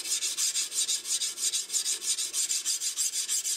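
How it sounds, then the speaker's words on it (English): Sandpaper rubbed back and forth along a seax blade gives a steady, rhythmic rasp of even strokes, close and unbroken, with no voices. "Sanding can be tedious"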